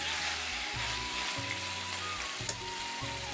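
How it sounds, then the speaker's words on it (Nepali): Pork frying in a pan, a steady dense sizzle that stays close and even, with a couple of faint clinks from stirring toward the end. "मासु चाहिँ मजाले फ्राई भइसकेको छ।"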